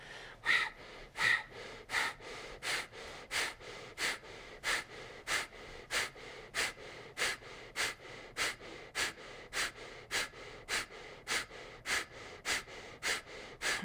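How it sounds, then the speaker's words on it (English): Breath of fire during a Kundalini yoga session, rapid rhythmic forceful nasal breaths with sharp regular pulses about twice a second, close and clear, with no talking. "Powerful breath of fire."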